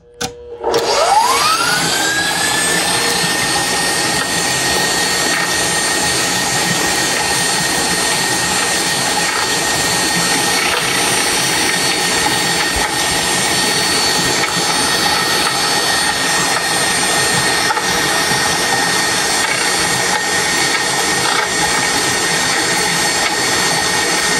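A refurbished KitchenAid 6-quart bowl-lift stand mixer whisks cream into butter. The motor spins up fast, then holds a loud, steady whine the whole time, with no talking.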